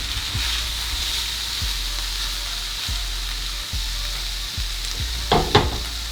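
Shrimp sizzle steadily in a hot pan, a continuous close frying hiss with a few soft knocks and stirring scrapes, louder clatters near the end; no one speaks.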